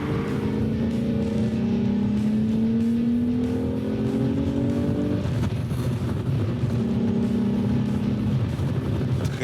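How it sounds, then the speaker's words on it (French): A Volkswagen Corrado's VR6 engine revs steadily from inside the car, the note rising in long sweeps, cutting off briefly, then climbing again under a constant road rumble. "Le VR6 a un son vraiment exquis."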